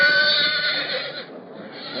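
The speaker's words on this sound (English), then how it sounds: "One of them speared the hip of the roan horse." A roan horse whinnies loudly and shrilly as a radio drama sound effect, one sustained neigh with no voices over it.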